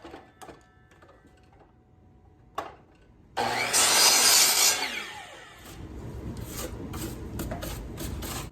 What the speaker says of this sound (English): First thing we're gonna do is cut our top boards to length.